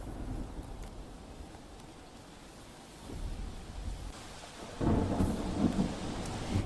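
Steady heavy rain hisses throughout in Surat, India, with low rumbling thunder swelling near the end and growing louder.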